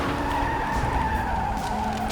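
Car tires squeal continuously in the vehicular combat racing game Gas Guzzlers Extreme, a sustained high skidding whine with engine roar underneath, loud and close, with no voices.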